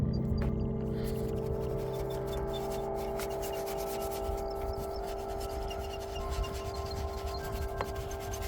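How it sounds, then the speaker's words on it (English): A detail brush scrubs the engine bay of an off-road vehicle with a continuous soft rubbing and scratching over a low steady hum. The sound is moderately faint and carries no speech. "we have given it a scrub, a bit of a detail with a detail brush"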